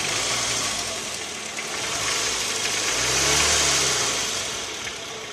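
Toyota 2AZ car engine running steadily with a low, continuous mechanical rumble and an even, unbroken drone across the whole stretch, recorded close with no talk.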